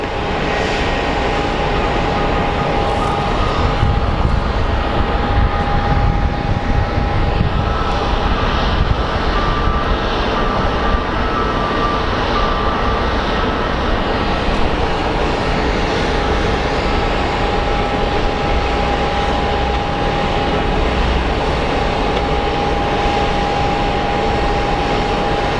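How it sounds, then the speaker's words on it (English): Frontier airliner jet engines rumbling on an airport runway, a steady loud roar with a thin high whine that persists throughout, heard at a distance without speech. "our Frontier flight for Portland is on the"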